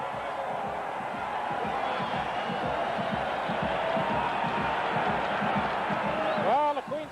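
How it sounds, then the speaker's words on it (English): Queen's Golden Gaels football fans cheer in a stadium at the 1983 Vanier Cup, a steady roar of crowd noise with a voice speaking over it. "the Queens Golden Gale fans, there you see them. They finally got something to cheer about"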